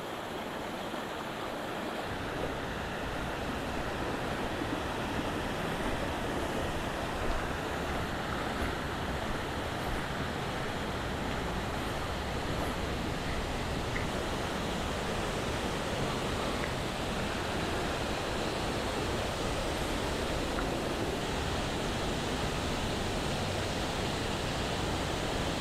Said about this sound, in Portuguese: agora tá com uma queda de água maior